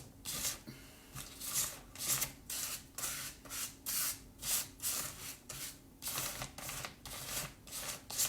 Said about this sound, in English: I'm just going to use my card here to get this background going